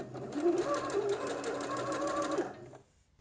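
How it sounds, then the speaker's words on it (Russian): A sewing machine runs a steady stitching burst along the seam of a summer dress. It is close and continuous for a few seconds, then stops abruptly. "Теперь прокладываем точно такую же строчку с остовом примерно 5 мм от края."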